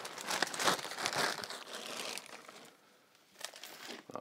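Paper and plastic wrapping crinkled and torn while unboxing a well-wrapped 3Doodler 3D pen box, close and busy with bursts of rustling and a short pause near the end.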